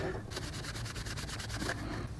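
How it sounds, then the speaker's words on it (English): A cloth soaked in rubbing alcohol wipes over metal solar panel brackets, a steady back-and-forth rubbing rhythm of about a dozen quick strokes, close and fairly quiet. "I'm going to go around and clean all the surfaces of the brackets with this rubbing alcohol first"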